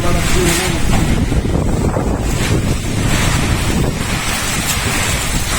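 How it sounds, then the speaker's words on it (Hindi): Heavy wind blows outdoors, buffeting the mic with a constant loud, low roar and rushing texture from start to finish. "हवा इतना ज्यादा है क्या बताया आपको इतना ज्यादा"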